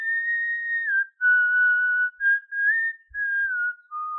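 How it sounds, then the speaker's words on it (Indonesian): A man whistles a slow, clear tune in a film thriller scene, with sustained single notes gliding gently between pitches, close and alone without talk. "Salah seorang pria tersebut meminta berlian itu sembari bersiul."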